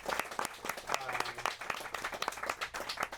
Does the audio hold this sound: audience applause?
yes